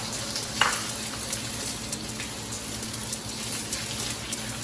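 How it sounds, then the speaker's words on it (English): Eggs fry in a very hot wok with a steady, fairly quiet crackling sizzle, broken by occasional small pops and spatters, close up and without speech. "So I'm gonna go ahead and I'm gonna drop these eggs in here. Oh, baby, this is too hot."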